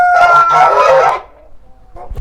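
A Kholmogory goose gives a loud, close, harsh honking call lasting about a second, followed by a short pause and then a fainter second call.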